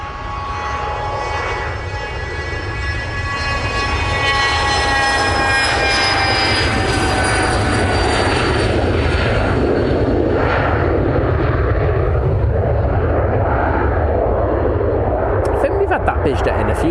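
A Hawker Beechcraft 400 business jet at Manchester Airport roars loudly and continuously, its engine whine gliding in pitch as it passes close by, with the roar building and holding for the whole stretch.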